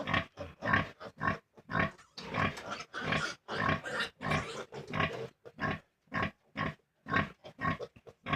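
Eighteen-day-old piglets on a farm grunt and squeal in rapid, repeated bursts, close and fairly loud, forming a continuous chorus with short gaps.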